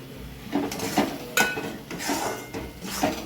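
A utensil scrapes and clinks against a pan while spices are stirred into a sautéed paste for a spicy village-style crab curry, with irregular knocks and clatters at moderate volume and no talking.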